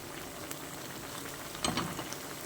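Onion fritters frying in hot oil, a soft steady sizzle with a brief louder bubbling burst near the end, faint and alone.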